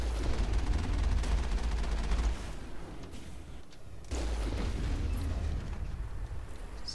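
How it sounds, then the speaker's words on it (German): Dense, continuous crackling bursts of rapid gunfire in the video game Mass Effect fill the clip, dropping briefly in the middle before surging back. "da schießt schon wer auf uns"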